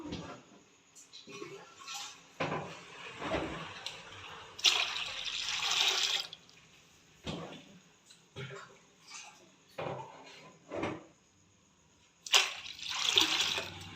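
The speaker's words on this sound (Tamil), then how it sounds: "இந்த பாத்திரத்தில் தண்ணி ஃபுல்லாகவே ஊற்றிக்கலாம்" Water splashes and pours in several short bursts into a cooking pot, with quiet gaps between pours and a few soft background noises.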